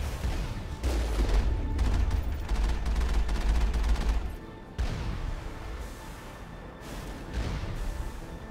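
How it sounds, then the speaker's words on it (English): Sustained bursts of gunfire and explosive booms from a sci-fi shooter game on the icy world of Noveria, loud and dense for about four seconds, then a brief lull before scattered firing resumes at a lower level. "Who's shooting?"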